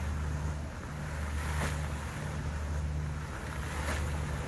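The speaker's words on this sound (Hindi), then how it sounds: "ये है दुबई मॉल और बुर्ज खलीफा के सामने फाउंटेन, जो देखे कितना ब्यूटीफुल है।" The Dubai Mall dancing fountain in front of the Burj Khalifa sends out a steady, rushing roar of spraying water over a low outdoor hum and wind. It is loud and constant throughout, with no talking.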